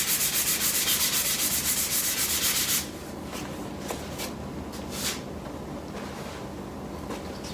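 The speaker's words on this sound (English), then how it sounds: "I can give this one a really light scuff." Light scuff sanding on a painted kitchen cabinet: a few seconds of rapid, rhythmic rubbing strokes close by, then quieter scattered scrapes and brushes.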